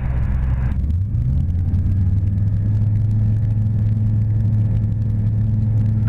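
A Sling 2 light aircraft engine at full throttle during a runway landing lesson, a loud, steady droning rumble that rises briefly in pitch near the start and then holds constant, with no talk.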